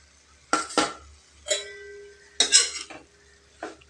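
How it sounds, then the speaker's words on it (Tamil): A spoon scrapes and clinks in a pan while drumstick leaves curry with grated coconut is stirred, in four or five short separate strokes against a quiet background. "இப்போ எல்லாத்துலேயும் படுற மாதிரி நல்லா கிளறி விட்டுக்கலாம்."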